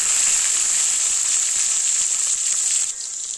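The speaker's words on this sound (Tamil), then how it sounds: "இப்போ வெங்காயமும் வெள்ளை போட்டு சேர்த்துக்குவோம்." Onions and garlic sizzle steadily in hot oil in a pan for a village-style okra and dried-fish curry, a loud, even hiss throughout that eases slightly near the end.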